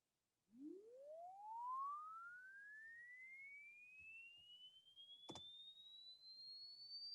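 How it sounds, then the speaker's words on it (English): A pure steady tone glides smoothly upward from a low hum to a high whistle over several seconds, with a brief click partway through. "here we go with a sine wave sweep"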